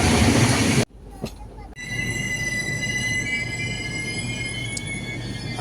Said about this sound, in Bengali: আর ট্রেন এখন আমাদের আস্তে আস্তে করে প্রবেশ করছে আসানসোলের দিকে।